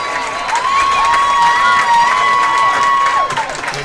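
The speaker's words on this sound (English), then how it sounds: "Please give a round of applause for homecoming court member Liliana Mendoza." Crowd at a high school homecoming football game applauding and cheering for a homecoming court member, a loud sustained wash of clapping and shouts with a long whistle-like tone running through it.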